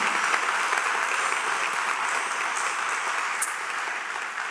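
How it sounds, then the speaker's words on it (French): An audience at a university thesis-presentation competition final applauds in a steady, full round of clapping that holds evenly and tapers slightly at the end. "On t'applaudit très fort."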